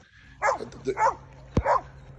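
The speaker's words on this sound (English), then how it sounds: "The barking is incessant." Several sharp dog barks and yips in quick succession, fairly close, over a quiet background.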